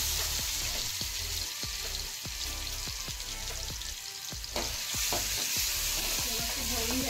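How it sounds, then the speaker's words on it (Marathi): Garlic and green ground paste fry in hot oil in a wok, giving a steady loud sizzle broken by regular scraping strokes of a spatula. "तेल आपलं आता गरम झालंय, त्याच्यामध्ये लसूण घालून घेऊया आणि तयार केलेलं हिरवं वाटण"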